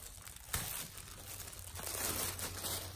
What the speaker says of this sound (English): More plastic bags. This one doesn't want to come off.